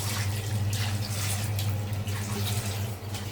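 Rinsing masoor lentils in water in a village kitchen, a steady faint splashing and swishing of water with a low hum beneath, no voices.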